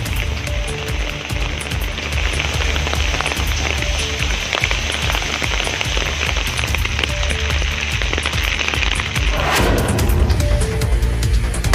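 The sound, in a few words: heavy rain pouring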